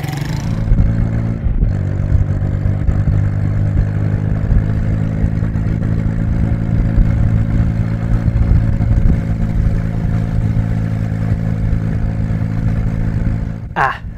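A SYM Wolf Classic 125 cc motorbike runs steadily out on the open road, its engine a constant mid-pitched drone with a slight rise in revs, loud and close throughout.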